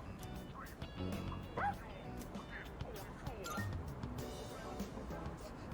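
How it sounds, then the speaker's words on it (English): A stray dog in the video game Persona 3 Reload barks angrily in repeated sharp yaps and whimpering yips, moderately close, layered over game music and ambient sound. "He accidentally stepped on a doggy's tail. And now he won't stop chasing him. I think the doggy's real mad."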